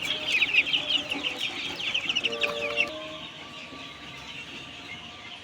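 Chickens of the Egyptian farm breed cluck busily at a poultry farm, a dense, close flock chatter that thins and fades after the first few seconds.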